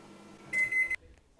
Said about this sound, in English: Put it in the microwave for about 20 seconds.